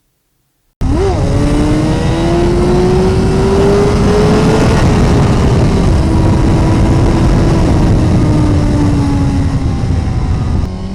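A 2017 Suzuki GSX-R1000R engine under hard riding on a hot day, roaring loud and close as the pitch climbs through the revs, then holding a sustained high whine with a slight falling tone, all without speech.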